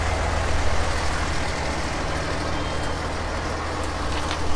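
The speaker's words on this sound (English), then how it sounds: "and here comes a fire truck too" A fire truck rolling past at an outdoor National Night Out event, a loud heavy engine rumble with a broad steady roar and faint high tones on top, sustained and close, without speech.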